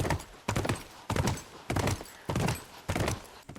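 Horse hooves clip-clopping in The Last of Us video game, six loud, evenly spaced thuds about half a second apart, close and clear with no voices.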